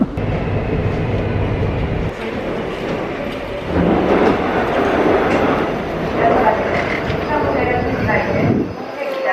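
Subway metro train in Korea rumbling along with a steady loud rolling noise inside the car, with people talking over it.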